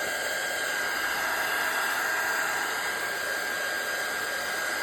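A hair dryer runs on a steady, continuous whir while it dries a craft paper background for a junk journal.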